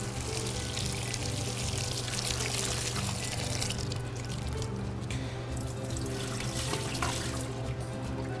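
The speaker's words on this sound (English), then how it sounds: "We're going to start with washing the strawberries first." Strawberries are washed under a running kitchen sink tap, a steady loud rush of water with splashing and pouring that continues without pause, no talking.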